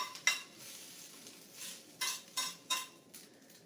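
Kale and vegetables tumble into a pan for a sauté with eggs, giving a few soft rustling thumps and brief clatters of cookware at close range, spaced irregularly over a quiet background.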